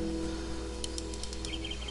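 A bird, a chicken in the video game Minecraft, gives a few faint, high chirps and tweets over a steady low hum of background sound.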